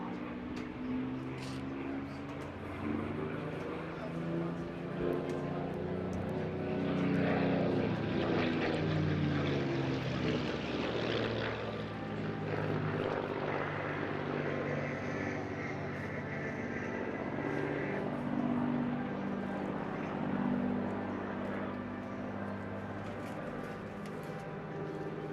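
A propeller aircraft making a fly-past at the Eastbourne International Airshow, its broad engine drone swelling and fading over about twenty-five seconds, with crowd noise and an announcer's voice in the background.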